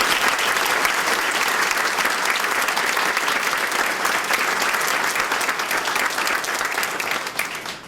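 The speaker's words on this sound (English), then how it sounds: "Let's give them a round of applause." Audience applause at a 2009 community dinner and awards ceremony in Ozark, sustained dense clapping from a large crowd filling the room, steady throughout and tapering slightly at the end.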